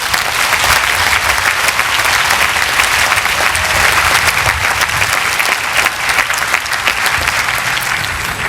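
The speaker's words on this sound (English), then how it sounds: "How about a round of applause for them?" A large audience at a college commencement gives a loud, continuous round of applause, dense clapping with scattered sharper hand claps that holds steady throughout.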